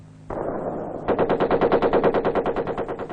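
Rapid machine gun fire during Vietnamese Ranger live-fire training, a loud sustained burst of evenly spaced shots over a steady rushing background, with no talk.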